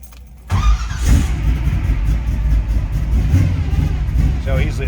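A 1971 Chevrolet Nova engine cranks briefly and catches, settling into a loud, rumbling idle with light revving, close up, with a voice talking over it.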